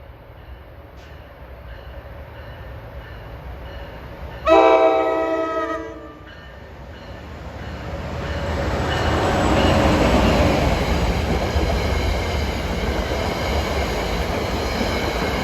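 A passenger train running from New York to Dover passes at a mountain station on an autumn evening, sounding a loud horn blast that gives way to a swelling rumble and rush of cars rolling past close by.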